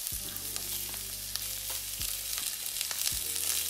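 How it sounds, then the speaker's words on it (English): Zucchini (courgette) strips sauté in a hot pan with a steady close sizzle and crackle, broken by a few brief clunks and low knocks from the pan, with no voices. "In the meantime, we're going to saute the zucchini."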